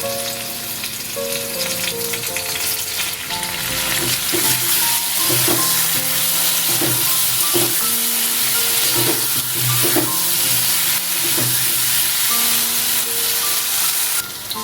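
Sizzling and frying in a pan as a spoonful of sour yogurt goes into a spiced potato masala, with steady hiss and occasional stirring clinks, close and continuous, no talking.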